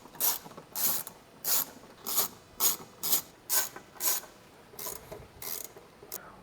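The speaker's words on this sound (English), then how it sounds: "we will take off the bolts off of the rear on both sides" Ratchet clicks in short bursts, about ten distinct strokes in a steady rhythm, as rear roll-over bar bolts are loosened on a BMW 230i; close and fairly quiet, with no talking.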